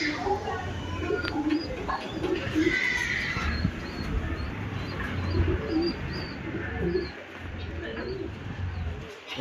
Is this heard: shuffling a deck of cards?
no